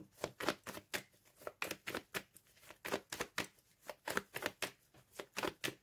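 Tarot cards are shuffled by hand in quick, close, rhythmic bursts of soft riffling slaps, repeating steadily and quietly with no talk.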